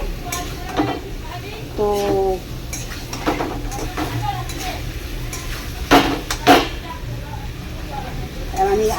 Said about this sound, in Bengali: আমি মাশরুম আর আলু 2 মিনিট ধরে মশলাটা কষলাম